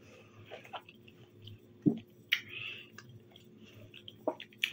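Close, quiet chewing of juicy tangerine segments, with soft wet squelches and a few sharper bites spaced irregularly, no talking over it.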